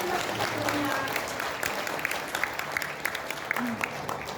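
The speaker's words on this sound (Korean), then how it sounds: "큰 박수 부탁드립니다." An audience applauds at a launch ceremony, with dense, steady clapping that thins slightly toward the end, heard from a moderate distance.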